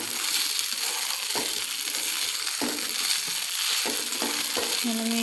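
Kande pohe, flattened rice with onions, is sautéed in a pan with a loud, steady sizzle. Periodic scraping stir strokes run through it, and no one speaks.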